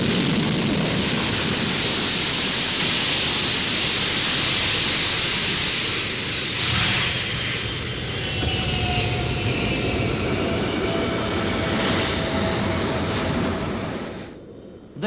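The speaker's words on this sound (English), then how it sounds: "French Concorde, which left Paris on a synchronized arrangement With its British counterpart, lands first." A Concorde supersonic airliner landing at Kennedy Airport, a continuous loud, broadband jet roar lasting throughout with a faint whining tone partway, noisy and rumbling as in an old film recording.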